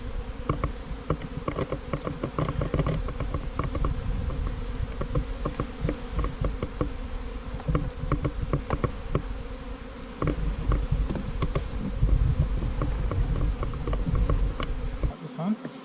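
A swarm of honeybees buzzes steadily around a hive outdoors, a dense, continuous drone of many wings with individual bees zipping close past, voices talking faintly underneath.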